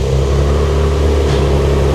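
A Nissan GTR with restrictive stock exhaust hums with a steady, muffled engine drone that sounds almost like a vacuum, loud and close with little variation over two seconds.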